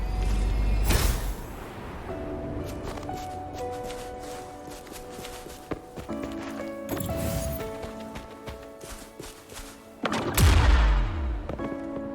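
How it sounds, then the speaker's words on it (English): Explosion blasting open a disk in the video game Wuthering Waves, with sharp booming bursts near the start and end and tonal game effects and footsteps between them. "Perhaps we can create an opening in this disk with an explosion."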